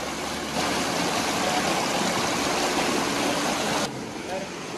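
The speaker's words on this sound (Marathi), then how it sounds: "पाऊस वाढला." Heavy rain pours in a dense, steady roar, swelling louder partway through before easing back slightly.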